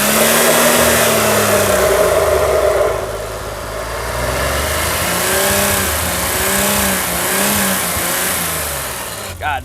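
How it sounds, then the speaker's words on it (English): Close up, a BMW car engine runs loudly at first, then settles into a steady, rhythmically pulsing idle with a faint background hiss. "God, this thing idles so nice."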